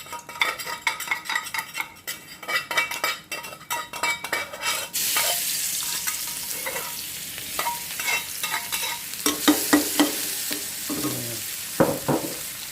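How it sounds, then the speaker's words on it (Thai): Chili and garlic stir-fried in a hot pan, with a steady loud sizzle, repeated scraping and clanking of a metal utensil against the pan, and bursts of crackling frying throughout. "เอาใส่พริกกระเทียมลงไปคัวครับ"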